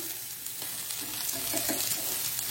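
Masala-coated fish frying in oil in a pan by a riverside, a steady close sizzle with bubbling crackles growing slightly louder as pieces are turned.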